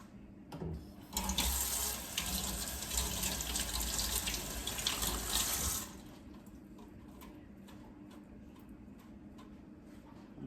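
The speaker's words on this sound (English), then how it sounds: "I'm gonna rinse it off." Turkey wings are rinsed under a running kitchen tap: a loud, steady gush of water lasts about five seconds, then cuts off, leaving quiet handling clicks and a low background hum. No one speaks.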